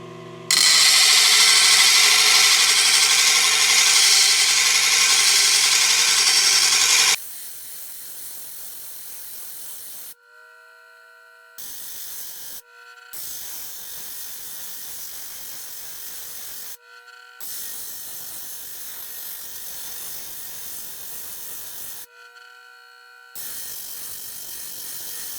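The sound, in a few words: coarse 180 grit grinding wheel reshaping a metal part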